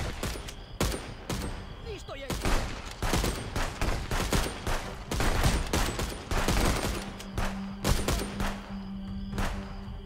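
Rapid bursts and single gunshots in the police game Contraband Police, a raid on a lumber mill, crack in dense clusters across the scene, loud and close, with a low steady hum underneath.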